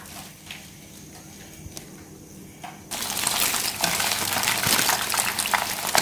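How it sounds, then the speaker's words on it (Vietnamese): Chicken pieces frying in a pan over low heat for crispy fried chicken, starting with faint sizzles and rising sharply about halfway into a loud, steady crackling hiss that continues to the end. "Mình chiên gà ở đây mình chiên lửa nhỏ thôi nha các bạn"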